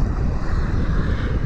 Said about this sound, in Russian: Несмотря на сильный ветер, волны просто великолепные.